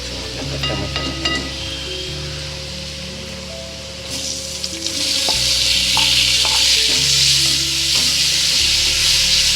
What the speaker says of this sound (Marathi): आता टाकायचं त्याच्यामध्ये टमाटर कापलेलं